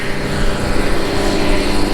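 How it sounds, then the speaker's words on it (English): A forage chopper runs with its knives being sharpened, a loud, dense, steady machine roar filling the whole clip with no breaks or changes in level. "sharpening the knives on the chopper right now"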